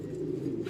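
Pigeons coo softly in a low, continuous murmur at a loft, with no voices heard in the clip.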